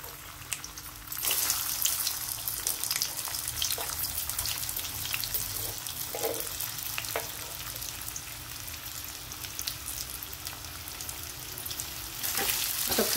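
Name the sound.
potato slices frying in peanut oil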